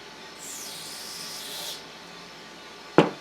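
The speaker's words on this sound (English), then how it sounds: "but we'll shoot it with some carb cleaner" Carb cleaner sprays in a short hissing burst into the jet of a 1974 Suzuki TC 125 carburettor, followed by a sharp tap.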